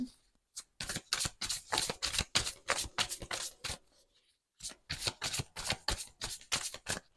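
A deck of Modern Love Tarot cards is shuffled up close in two bursts of rapid riffling flutters, separated by a brief pause, with no speech.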